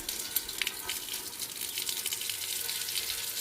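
Water runs steadily from an elephant-shaped copper and brass faucet on an outdoor patio sink, a continuous close splashing hiss with small spattering pops and no voices.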